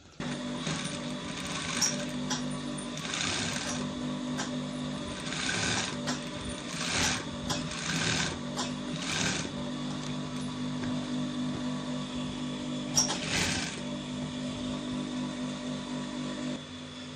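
A sewing machine runs steadily while stitching around the edges of an Agbada garment, a continuous mechanical whir with bursts of faster stitching and brief pauses, close and fairly loud throughout.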